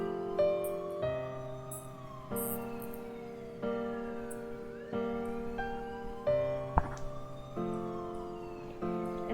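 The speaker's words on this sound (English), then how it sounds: "In the distance, she could faintly hear the sound of police sirens." A two-tone police siren in the video game 428: Shibuya Scramble wails steadily in a repeating high-low pattern, synthetic and evenly paced, with no voices around it.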